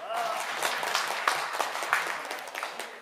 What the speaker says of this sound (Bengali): আমরা আরেকটি হাত তালি দিই